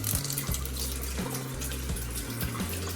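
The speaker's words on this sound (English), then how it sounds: "We gotta get the water nice and hot." Hot water running from a kitchen tap into a sink, a steady close splashing gush that carries on unbroken for several seconds with nobody talking.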